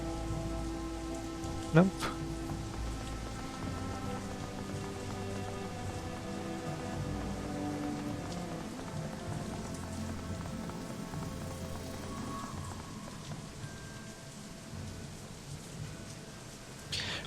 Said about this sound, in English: their backs hunched against the pelting rain